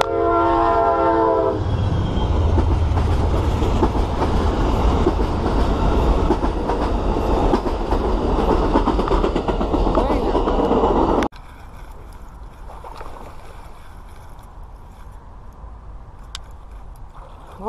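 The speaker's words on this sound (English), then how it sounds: "Train coming." A train rumbles past at night near water, opening with a loud blast of its horn, then a long close roar of rolling cars and wheels that cuts off abruptly into quieter ambience.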